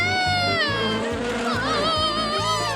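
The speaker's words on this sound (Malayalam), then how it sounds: "ഓടിക്കോ, കൊതുക് വരുന്നേ." Giant cartoon mosquitoes buzz in a pulsing, rhythmic drone, with a high, wavering whine layered over the repeating buzz.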